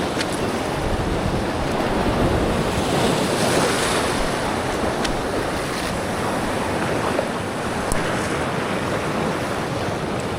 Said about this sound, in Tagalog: Hindi ganun kalalaki yung alon eh.